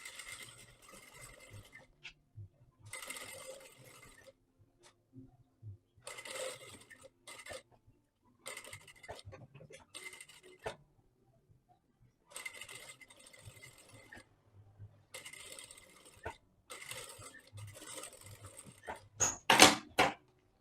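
A sewing machine runs a straight seam joining lace to a dress lining, in several short stitching bursts of a second or two separated by pauses, fairly quiet, ending with a few louder clicks and knocks.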